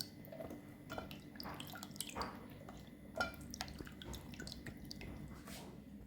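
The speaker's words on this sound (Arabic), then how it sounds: "اول حاجه غادي نجبد هذا الكالامار هذا من الماء" Water dripping and trickling from calamari lifted out of a bowl of water, scattered soft drips and splashes over a quiet background hum, close and faint, no talk.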